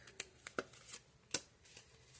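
Oracle cards being handled and drawn from a deck, giving a few soft, scattered slaps and shuffling flicks close by in a quiet room, with no talking.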